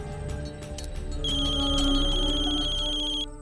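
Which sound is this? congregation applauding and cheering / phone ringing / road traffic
phone ringing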